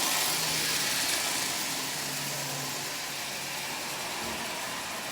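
Marx Mercury toy locomotive with a black repaint and a newly installed prewar motor, running with a steady, close, hissy whir and a faint mechanical hum that holds without break for several seconds.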